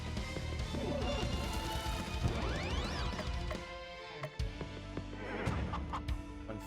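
Chicken attack in the video game Cthulhu Saves Christmas: clucking and squawking game sounds with crashes and whacks over busy game music, fairly loud and continuous throughout.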